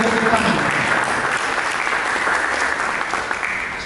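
A church congregation applauds during a sermon, a loud sustained burst of clapping that fills the room and slowly tapers off toward the end.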